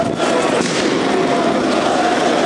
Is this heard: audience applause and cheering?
no